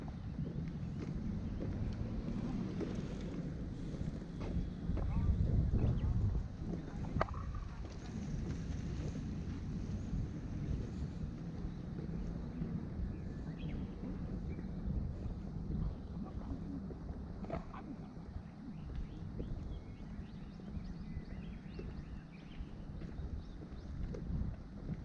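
Steady wind gusts outdoors among sakura trees shedding their blossoms, a low, rumbling rush buffeting the microphone, strongest around the middle, with no voices present.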